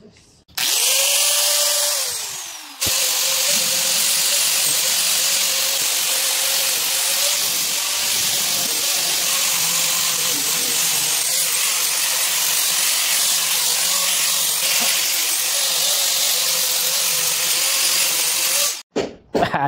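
Angle grinder fitted with an 80-grit flap disc grinding down a door, a loud steady abrasive whine and hiss running nearly continuously for most of the span, close and unbroken apart from a brief dip near the start.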